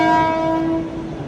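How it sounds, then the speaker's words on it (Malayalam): A train sounds a loud, sustained, tonal horn at a railway station platform. The horn holds steady and then eases slightly, close and dominant, with no talk. "അപ്പുറത്ത് ബാക്കി എല്ലാ സ്ഥലത്തും ട്രെയിൻ വരുന്നുണ്ട്"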